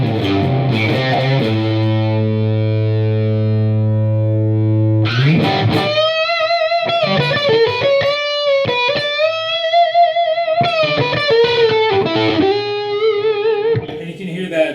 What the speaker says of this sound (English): So this is another pedal with the amp, obviously.